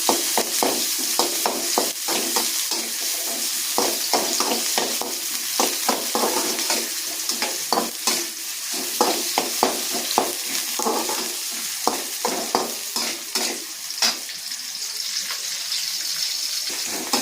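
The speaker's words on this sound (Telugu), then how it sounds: "మా అమ్మ చెప్పింది కదా, రెడ్ కలర్ వచ్చేంత వరకు ఆనియన్స్ వేయించుకోమని" Onions fry in hot oil, cooking until reddish, while a spoon stirs the pan with repeated sharp scraping clicks over a constant crackling sizzle; no voices are present.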